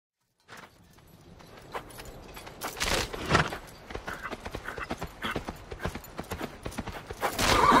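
Horse hooves clip-clopping steadily in a Fable video game, with a brief whinny and jangling tack, fairly close and moderately loud, no talking over it.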